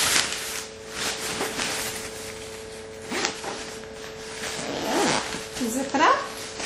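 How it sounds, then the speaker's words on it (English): Fabric zipper on a foldable pop-up fairy castle play tent being drawn closed, a series of close, raspy zipping strokes with a few pauses, some handling noise and a faint steady hum beneath. "Zip it up, and you are all done and ready to bring it anywhere"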